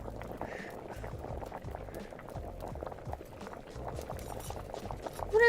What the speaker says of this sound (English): I'm gonna turn the bubbling noise up more.